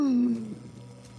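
A voice imitates a Resident Evil zombie with a short, drawn-out guttural groan that falls in pitch and fades, loud and close, and lasts about a second.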